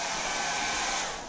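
A hair dryer blows with a loud, steady airy roar, close by, tapering slightly at the end.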